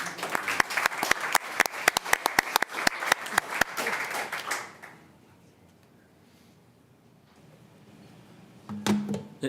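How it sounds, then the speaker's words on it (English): Audience members at a city council meeting clap for several seconds, a scattered burst of hand claps that fades into near silence, followed by faint room noise and a brief thump. "You can applaud for them anyway."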